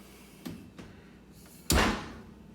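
The oven door of a Samsung 2019 5.8 cu ft gas range, model NX58R4311SS, shuts with one solid close thud after a couple of faint softer knocks in a quiet kitchen.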